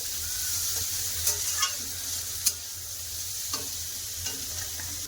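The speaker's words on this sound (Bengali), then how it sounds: "উচ্ছাটা একটু ভালো করে একটু ভেজে নেবো" Bitter gourd fries in hot oil with a constant, close sizzle, while a few scattered clicks from the stirring utensil rise above the hiss.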